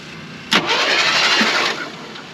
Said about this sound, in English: Make sure that it actually rolls over. We took the spark plugs out to help it roll over.